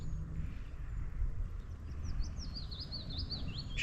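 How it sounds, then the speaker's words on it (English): A willow warbler sings outdoors in spring in Northumberland by the River Tyne, a faint, distant string of descending sweet notes heard over steady low wind and rushing water noise. "the willow warbler."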